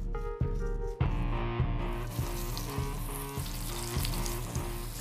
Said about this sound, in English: get that bacon really nice and crispy. You just roll it round.